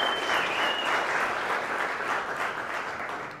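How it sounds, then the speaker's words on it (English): Steady, even applause from an audience thanking military veterans and reservists at a business leaders' event, a fairly close wash of many hands clapping that tapers slightly at the end. "give them a round of applause"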